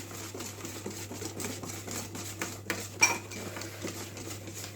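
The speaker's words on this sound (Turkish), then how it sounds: "Bir çay bardağı kadar sıvı yağımı ilave ediyorum arkadaşlar karıştırmaya devam ediyorum" Carrot, walnut and cinnamon cake batter is stirred in a bowl after oil goes in, a steady clinking, scraping churn of utensil against the bowl under a low hum, with one sharper knock.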